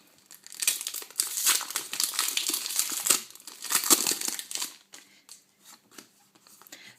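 A Pokémon trading card duopack from the Glaciation Plasma set being torn open: close, bright crinkling of the foil wrapper that builds into a dense rustle, then trails off into a few sparse crackles.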